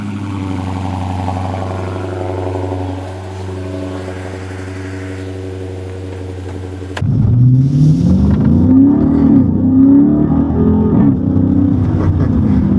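A Dodge Scat Pack's engine runs with a steady low idle drone, then swells into a louder, rising rev with shifting pitch partway through, close and continuous with no talk.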